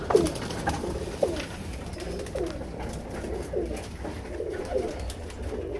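Giribaz pigeons on a pigeon farm coo in soft repeated calls every second or so, close by, with light background rustling and no talk.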